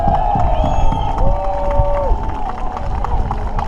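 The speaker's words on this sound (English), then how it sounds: "Let's get a big roar for our first raft coming in," Crowd cheering and roaring for the first raft arriving at the Menai Strait raft race, a loud, continuous outdoor roar of many voices with scattered whistles and shouts.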